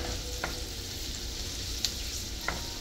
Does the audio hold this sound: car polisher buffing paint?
no